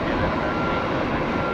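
Big jet airliner engines roar steadily at Tampa airport, a loud, dense, unbroken rumble without pause.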